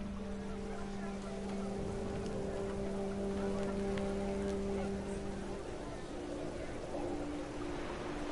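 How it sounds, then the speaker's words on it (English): Steady rain hiss fills a scene from the video game What Remains of Edith Finch, with wind and a low droning hum underneath; constant and moderately quiet throughout with no talking. "Rain came down in buckets then"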